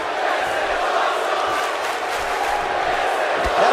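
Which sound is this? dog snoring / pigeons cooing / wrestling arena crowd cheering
wrestling arena crowd cheering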